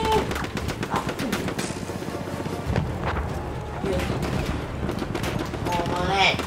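Gunfire from the World War I shooter game Battlefield 1 cracks in dense, rapid bursts throughout, loud and steady, with shots layered over one another and a voice at times.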